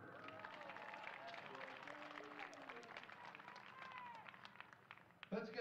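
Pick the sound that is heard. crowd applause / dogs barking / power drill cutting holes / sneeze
crowd applause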